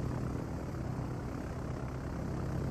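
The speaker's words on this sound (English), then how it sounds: "it allows you to get your next set of planes up in the air on him." Steady broadband droning roar of carrier aircraft engines as planes launch in the World of Warships naval game, continuous and fairly loud with no voices.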